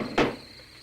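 A desk drawer slides open in an old film scene, one short scraping burst near the start that quickly fades into quiet room tone.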